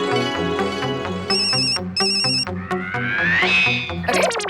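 A phone ringtone announces an incoming call: a loud, bright electronic melody of repeating beeping tones that plays steadily throughout, with no talking.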